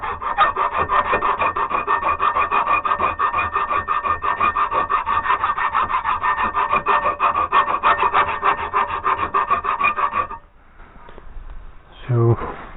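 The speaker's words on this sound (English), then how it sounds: "I think it is best done with the files" Steady hand filing on a cast-iron lawnmower part, a continuous close rasping stroke after stroke for about ten seconds, then quieter scraping and a brief knock near the end.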